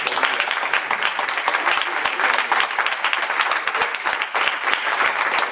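Sustained audience applause fills a concert hall in Sansais, France, dense and steady clapping from many hands continuing loudly throughout with no gaps.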